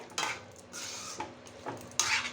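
Chicken and ground ginger, garlic, onion and tomato paste stirred in a cooking pot, giving scraping, clattering spoon-on-metal sounds in a few close strokes with no talking.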